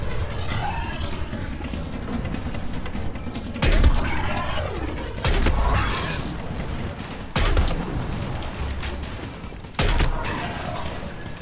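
A firefight in Mass Effect 3, with bursts of rapid gunfire and heavy shots breaking out repeatedly over dense, busy background combat noise.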